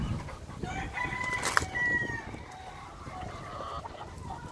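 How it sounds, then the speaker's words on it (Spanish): An Indio fighting rooster crows once, a rising then held call in the middle, over a steady background of outdoor noise. "Gallo indio."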